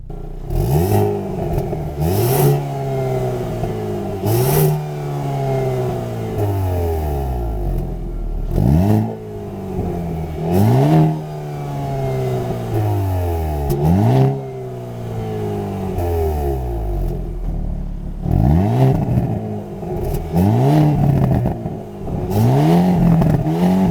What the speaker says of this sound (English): I'll show you how the exhaust sounds inside of this thing.